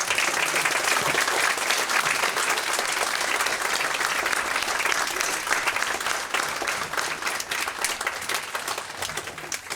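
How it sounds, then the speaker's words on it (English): A crowd at a cultural sharing ceremony at The Rooms applauds its teachers with sustained, dense clapping that stays loud and steady for about ten seconds and tapers slightly at the end. "help me give a big applause for all this amazing teachers we're working with"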